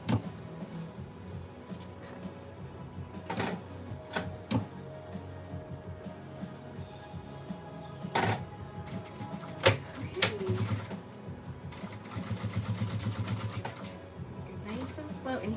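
Intermittent bursts of a sewing machine stitching an upcycled Gucci bag, quiet and close, with irregular mechanical ticks and short whirring runs separated by pauses and handling noise.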